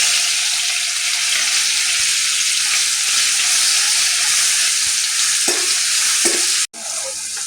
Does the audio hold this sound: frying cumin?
yes